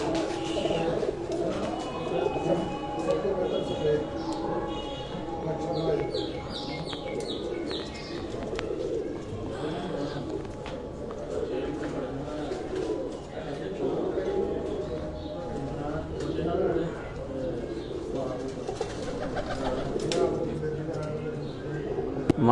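Pigeons coo on a rooftop loft of Zeera Plus and Lakha breed kabootar, a steady low cooing with scattered chirps under nearby talk and outdoor background noise.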